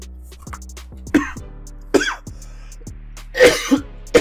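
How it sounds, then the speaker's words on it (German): A person with a recurring cough coughs and clears their throat in short, close bursts, several sharp hacks spaced irregularly across a few seconds, with no talking. "Übrigens, mein Husten ist gerade immer wieder da."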